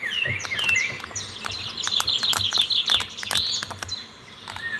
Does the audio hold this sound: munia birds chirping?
yes